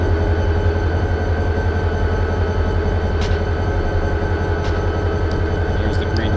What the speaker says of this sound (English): Hey, another train.